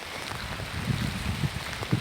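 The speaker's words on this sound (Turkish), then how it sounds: "Yukarıdan yağmur suları yolları yarıyor" Heavy rain falling with rainwater running down and flooding the roads, a steady dense patter with low splashing thuds, fairly close and continuous with no voices.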